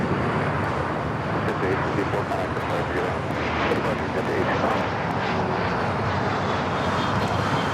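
An Avianca jet airliner on arrival from San Salvador roars steadily overhead, loud and sustained engine noise filling the whole stretch.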